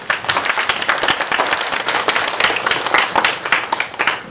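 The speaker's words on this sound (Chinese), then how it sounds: "那请大家鼓掌一下" A conference audience bursts into applause, a dense, loud, even patter of many hands clapping close by, sustained throughout with no talk over it.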